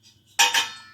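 A spoon stirring tomato jam in a pot on a low flame knocks against the metal, giving two quick close clinks one after the other after a near-silent start.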